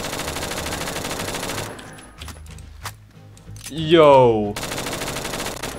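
Rapid automatic M4A1 carbine fire from the video game Phantom Forces, loud dense bursts at the start and end with a gap in between where someone briefly speaks.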